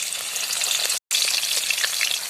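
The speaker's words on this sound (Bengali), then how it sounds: "কড়াইতে সর্ষা তেল গরম হয়ে গেছে মাছগুলো দিয়ে দেবে" Silver cup fish fry in hot mustard oil in a pan, a dense, steady crackling sizzle throughout with one very brief break near the middle.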